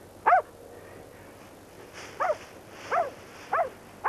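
A search dog barks outdoors on Cannock Chase near bracken, four or five sharp, spaced barks at moderate distance over a quiet background.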